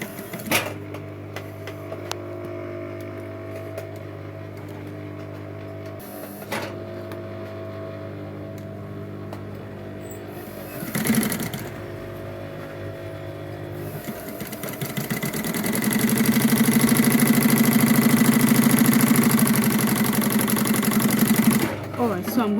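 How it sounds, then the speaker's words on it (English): A sewing machine top-stitches the tip of a tote bag in several short runs of steady mechanical whirring, separated by pauses, with a longer and louder stretch of stitching toward the end. "I'm first of all going to top stitch the tip of this bag."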